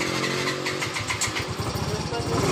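A Yamaha Fino scooter with a sputtering, weak-running fault is started up close, its engine catching in a rough, uneven rhythm of loud pulses that quickly settle into a choppy idle.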